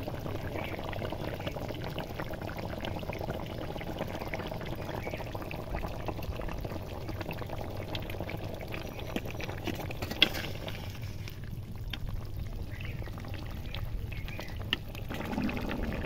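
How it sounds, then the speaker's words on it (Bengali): Fish curry broth simmering in a pot, a steady low bubbling churn with faint liquid patter running throughout, close and unbroken, with no voices. "ঝোল ফুটে গেছে, এবার মাছ দেবো।"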